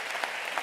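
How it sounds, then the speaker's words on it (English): A church congregation at an Easter service claps together for a boy in a brief, steady burst of applause heard from within the crowd. "So put your hands together one more time for Camden."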